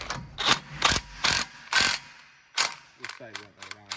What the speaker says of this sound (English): I take it, and thread it on, tighten it up against the axle nut.